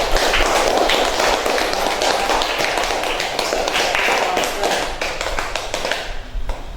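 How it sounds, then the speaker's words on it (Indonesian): Students in a classroom clap together in a loud, rapid, crackling burst that runs for several seconds before tapering off at the end. "Tepuk tangan untuk kita semua setelah tadi."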